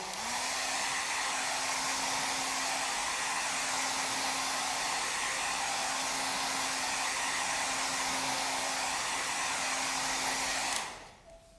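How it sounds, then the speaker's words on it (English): A hair dryer blows loudly and steadily at close range with a constant whine, drying leather during scratch repair, then switches off abruptly near the end. "give that a quick blast with the hairdryer"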